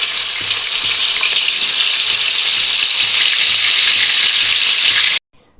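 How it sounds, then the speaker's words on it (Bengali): Rohu fish pieces fry in hot salted oil in a wok, giving a loud, dense, unbroken sizzle for about five seconds before cutting off abruptly. "চারটে মাছ আগে দিয়ে দিলাম, বাদ বাকিটা পরে ভাজবো।"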